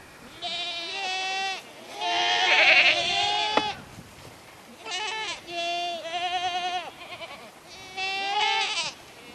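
Goats bleat repeatedly in loud, wavering cries close by during a feed taste test, several calls overlapping in bursts with short gaps.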